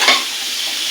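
Eggplant frying lightly in hot oil for a beef and eggplant dish, a brief loud burst of spatter that settles into a steady bright sizzle, close up and without talk.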